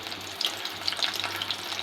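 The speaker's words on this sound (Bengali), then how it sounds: "আমি আস্তে আস্তে অল্প জাল দিয়ে আমি ভেজে নিচ্ছি আস্তে আস্তে করে, নাহলে পুড়ে যাবে" Cornflour-coated food frying slowly in oil over low heat, a soft steady sizzle with small scattered pops and crackles, close and fairly quiet, with no talking.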